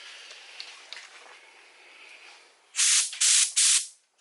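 Paint spray gun in a paint booth, pressurised but empty, blows three loud bursts of air one after another near the end, after a quieter stretch of faint background noise.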